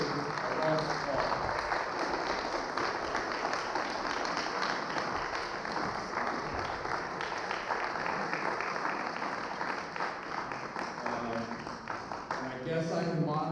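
A meeting audience applauds the speakers at the start of a Q&A session: steady, dense clapping fills the room throughout, with some crowd voices mixed in.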